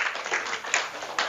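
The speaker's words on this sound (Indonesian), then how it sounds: "tepuk tangan" Audience of schoolchildren clapping their hands, a brief patter of many claps with a few sharper accents, moderate and close.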